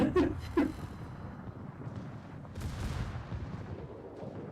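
Eighteen-inch naval guns firing in the World of Warships video game, two sharp booming shots in quick succession followed by a long rumbling wash and a later deep roll of distant blasts, moderately faint overall.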